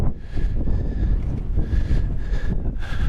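Strong wind blows at an abandoned mine, gusting in uneven waves and buffeting the microphone with a heavy low rumble and hiss.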